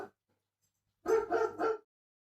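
Dogs barking, with a faint short whimper at the start followed by three loud, close barks in quick succession, then silence.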